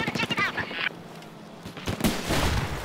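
Battlefield 4 sniper gunfire on the Altai Range map: a sharp crack of a shot lands late in the moment, preceded by a brief voice-like burst and low game ambience.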